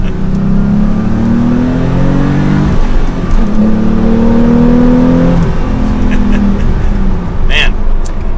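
A Porsche 911 Carrera T with a turbo engine and manual transmission accelerates under load, a steady engine drone rising in pitch through a gear, with a brief shift dip near three seconds, loud and continuous from inside the car.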